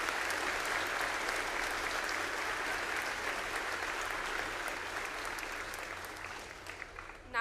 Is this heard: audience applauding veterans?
yes